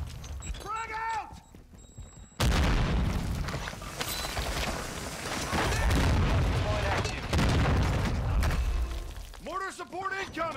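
Frag grenade blast and combat noise in Warzone 2, a sudden loud boom followed by sustained gunfire and rumbling explosions, with voices talking over the battle.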